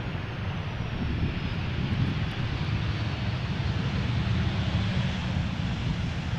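An airliner on a crosswindy arrival at Amsterdam Schiphol Airport gives a steady, loud engine roar with rumbling wind noise throughout, no voices.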